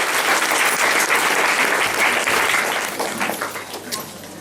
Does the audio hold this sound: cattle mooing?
no